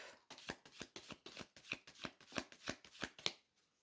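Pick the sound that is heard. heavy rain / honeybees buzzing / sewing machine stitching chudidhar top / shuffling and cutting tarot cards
shuffling and cutting tarot cards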